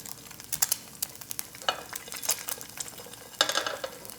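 Eggs fry in canola oil in a pan, crackling and spitting in irregular bursts of sizzle, close and lively, with a louder flare near the end and no voices.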